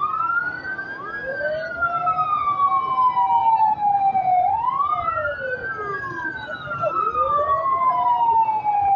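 Fire engine sirens wail continuously at a fire in Sitio Manalite 2, Sta. Cruz, Antipolo City, with rising and falling tones overlapping as trucks arrive, loud and close, under steady street noise.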